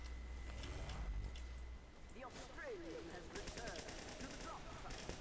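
The syringe gun fires in Team Fortress 2, sounding as quick repeated shots amid busy game noise while someone talks over it.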